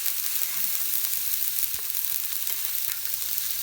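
Potatoes frying on a metal griddle over an outdoor wood fire give a continuous bright sizzle and crackle, close and steady, with occasional soft pops and stirring clinks, no talking.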